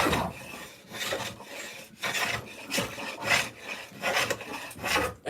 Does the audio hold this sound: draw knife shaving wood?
yes